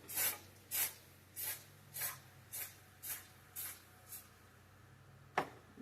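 Cooking spray hits a baking dish in nine short hissing bursts in a steady rhythm, close and fairly loud, followed after a pause by one last quick spritz.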